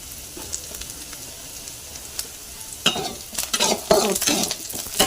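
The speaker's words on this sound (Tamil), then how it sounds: "வதக்கிக்கிறோம் வெங்காயம் இப்போ பொன்னிறமாக வந்ததுக்கப்புறம் இஞ்சி பூண்டு" Onion, ginger and garlic sautéing in a pan begin with a quiet sizzle, then turn into louder, busy scraping and clattering as a spoon stirs them, close and without talk.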